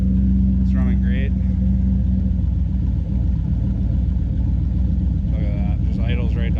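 A T-top car's engine idles steadily with a continuous low, close rumble throughout, and brief bits of voice surface near the start and end.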